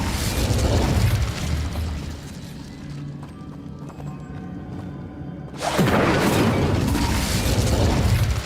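Incendio fire spell cast in the Hogwarts Legacy video game, a loud whooshing burst that fades into a lower rumble, then a second powerful blast of fire surging back in and sustaining to the end.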